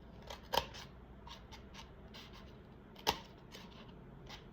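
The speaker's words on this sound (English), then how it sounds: "you're going to take your scissors and you're going to" Scissors snip paper for a handmade bird ornament: two sharp, distinct cuts spaced a few seconds apart, close and crisp over a quiet room.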